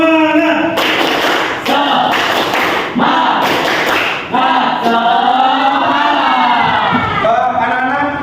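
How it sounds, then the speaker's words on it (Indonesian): Classroom pupils loudly perform the 'tepuk semangat' spirit clap chant, rhythmic group clapping in bursts mixed with shouted chanting voices, close and energetic. "Tepuk semangat."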